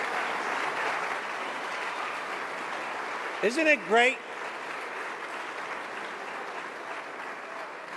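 Continuous audience clapping at a state budget event with the New York governor for a county executive, with a brief spoken remark from a speaker cutting through midway before the clapping carries on.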